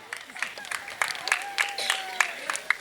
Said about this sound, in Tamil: அனைவரும் கைத்தட்டி உற்சாகப்படுத்தும்படி கேட்டுக்கொள்கிறோம்